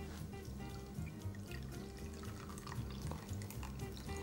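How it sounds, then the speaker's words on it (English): Lemon juice pours into a bowl of lemon zest in a kitchen while mousse is being made, a faint continuous liquid trickle with small splashes over a low hum. "and just pour the juice"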